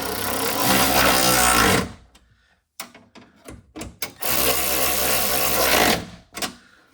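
A power tool whirs in two bursts of a couple of seconds each, driving the bolts on a Toyota Corolla window regulator, with clicks and handling clatter between the bursts.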